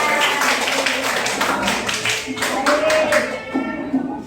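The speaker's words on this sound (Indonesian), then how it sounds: "Tepuk tangan" A classroom of students clapping their hands, a quick rhythmic run of close claps that carries on steadily for several seconds.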